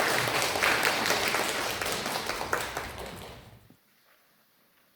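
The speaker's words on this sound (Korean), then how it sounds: "우리 다시 한번 큰 박수로 하나님께 영광 돌리겠습니다." A church congregation claps loudly after a choir's hymn of praise, a thick wash of applause that fades out near the end into quiet room tone.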